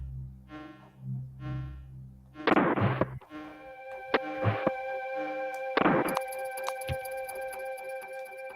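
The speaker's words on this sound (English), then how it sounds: "Might hear fireworks in the background." Distant fireworks pop and thud in a few scattered bursts, faint behind the music and sound effects of a Donkey Kong Country game.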